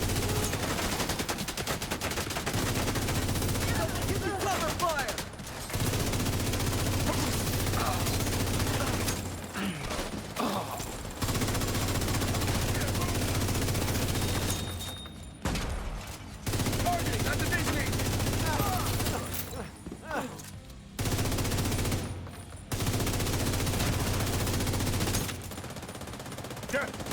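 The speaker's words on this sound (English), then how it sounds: "Give me cover fire." Sustained cover-fire gunshots in a video game, dense rapid automatic bursts that roar loudly for seconds at a time, broken by a few short pauses, with occasional voices under the shooting.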